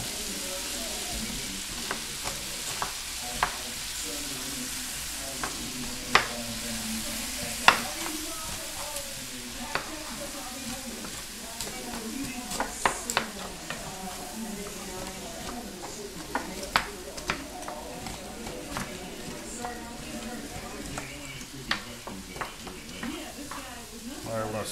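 Onion frying in a pan for braised chicken, a steady close sizzle with the sharp clicks and scrapes of stirring, and occasional talk over it.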